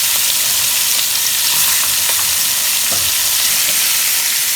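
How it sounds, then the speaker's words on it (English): Pieces of oxtail sizzle and fry steadily in a hot pan, a loud, continuous crackle with occasional spits and pops and no talking. "Now I'm going to add the oxtail one at a time."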